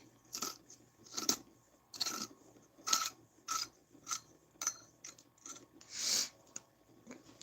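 An herb grinder being twisted, giving about ten short gritty crunching bursts in a steady rhythm, close and fairly clear over a faint low hum.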